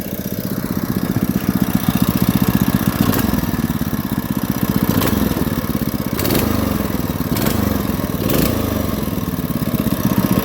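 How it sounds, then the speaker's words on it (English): A small Carter go-kart engine, long abandoned and now running, runs steadily close by, a loud, rapid putter with occasional revving surges, continuing throughout without any talking. "Runs like a brand new engine"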